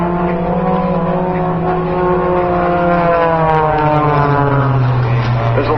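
Aerobatic propeller airplanes fly a diamond formation over an air show, and a loud, steady engine drone holds throughout. The pitch shifts gradually as the planes pass close by.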